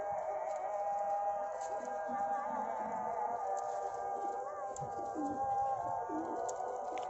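Pigeons coo steadily in a pigeon loft, a continuous low murmuring chorus of several birds close by, with faint shuffling underneath and no talking.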